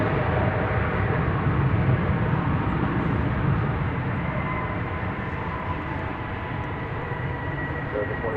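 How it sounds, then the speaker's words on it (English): An American Airlines Boeing 737-800 jet arriving from Fort Lauderdale at DFW Airport produces a steady broadband engine roar at moderate distance, with a voice speaking over it. "From Fort Lauderdale comes this 737-800. It's American Flight 2558."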